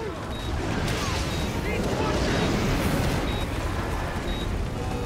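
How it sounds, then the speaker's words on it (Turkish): Explosions in Call of Duty: Infinite Warfare, a dense continuous rumble of blasts and debris with sustained low roaring, loud and unbroken, while a player speaks over it. "her yer patlıyor"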